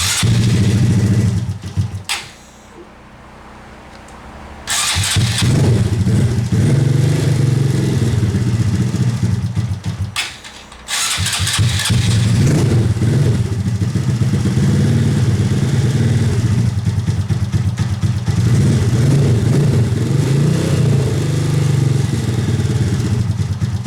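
Rebuilt Honda Grom motorcycle engine cranked and running close by, a loud steady idle with a short quiet gap near the start and another dropout around ten seconds before it resumes, no talking.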